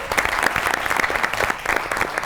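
Studio audience on a comedy talk show breaks into steady, dense clapping that stays loud and even throughout, with no voices over it.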